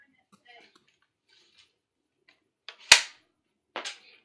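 A toy gun pops off with one sharp, loud crack, and a second, softer snap follows about a second later. Before the shots there are faint clicks and a few quiet rustles.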